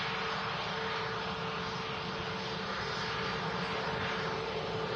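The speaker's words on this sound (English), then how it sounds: "the high-fly A340 arriving" An Airbus A340 airliner arriving at Manchester Airport near the rapid exit taxiway, a steady broad engine roar holding at constant loudness throughout, with no voices.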